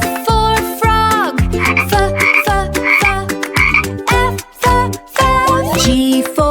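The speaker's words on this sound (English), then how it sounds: "F for fish, F for frog" Frogs croak in a rapid, rhythmic series of loud, close calls with musical accompaniment behind them.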